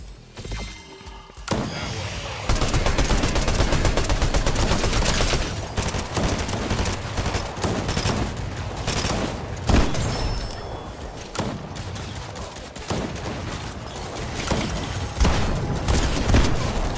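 Sustained rapid gunfire rattles almost nonstop, with bursts of automatic fire and heavy booming shots layered close and loud.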